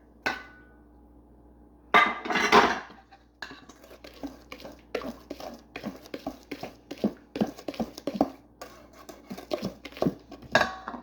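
Brownie batter with walnuts and a stick of butter is worked in a bowl, giving irregular knocks and scraping clatters of a utensil against the bowl, with a louder rattle early on and no talking.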